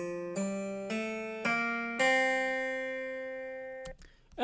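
A Dorian mode scale rendered as about five successive sustained notes that stack and ring on, soft and clear, ending with a brief click and faint noise.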